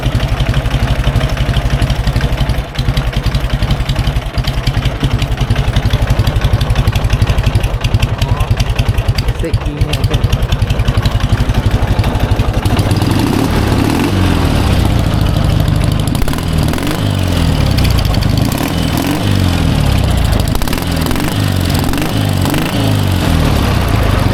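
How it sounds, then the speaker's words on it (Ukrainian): A Dnipro MT 11 motorcycle engine runs at a steady idle, close and loud throughout, with a brief change partway through as it settles into a rougher, throbbing idle. "Тепер подивимося, як же ж цей мотик за 4 тисячі гривень запускається."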